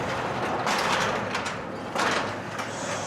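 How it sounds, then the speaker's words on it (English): A residential garage door rolls open along its track after its torsion bar was fixed, a steady mechanical rumble with clattering surges, fairly loud and close, no voices. "Garage door now opens."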